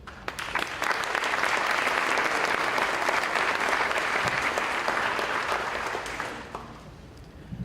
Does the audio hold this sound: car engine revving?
no